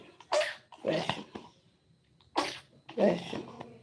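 A person sneezing several times in quick succession, close to the microphone: sharp bursts in two pairs separated by short pauses, with some breathy sound between them.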